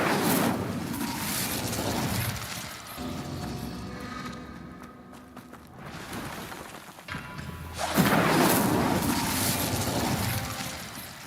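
A fire spell cast in Hogwarts Legacy bursts out as a loud whooshing, crackling blast that fills the opening seconds, fades into a quieter spell-like hum, then flares again in a second loud rush near the end.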